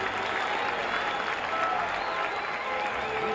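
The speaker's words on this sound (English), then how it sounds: "Listen to the crowd." Baseball stadium crowd cheering and applauding a Fergie Jenkins strikeout for his 3,000th, a loud, steady roar of many voices and clapping that fills the whole stretch without letup.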